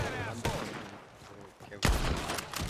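Gunfire from the video game Red Dead Redemption 2 comes as a few sharp, loud shots, the heaviest burst near the end, mixed with game sound and speech.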